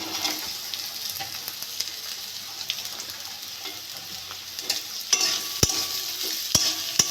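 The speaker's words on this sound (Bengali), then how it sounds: "গাজরগুলো ভেজে নেবো" Chopped carrots frying with onion and green chilli in a pan for flour chowmein, a steady close sizzle with occasional stirring clinks and a few sharp metallic taps toward the end.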